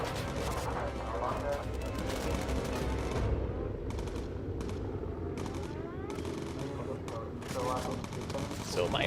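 Turret gunfire from a bomber aircraft in the video game Bomber Crew, loud rapid bursts rattling over the engine drone and other game noise, with a voice speaking over it.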